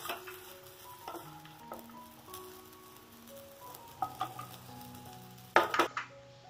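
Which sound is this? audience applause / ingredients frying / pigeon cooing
ingredients frying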